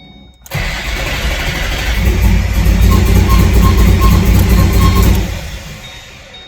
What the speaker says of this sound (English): All right, so I'm just gonna crank it over.